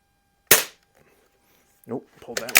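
A Tech Force TF-79 .22 CO2 target rifle, repaired, fires a single sharp, loud crack, followed after a pause by a couple of softer clicks and knocks of handling.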